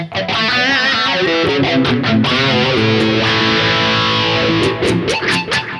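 A Harley Benton Fusion 3 electric guitar plays a crunchy overdriven tone through a BOSS GT-1000 multi-effects unit, loud chords and notes ringing continuously with no voice over them.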